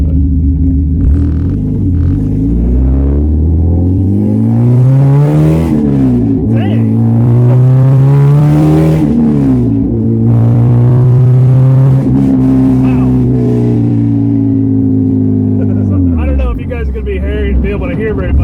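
A 2004 Honda Civic with a swapped K24 engine, Skunk2 Megaflow exhaust and full race headers revs loudly several times, the pitch climbing and falling in repeated sweeps, close and aggressive, with a voice talking over it.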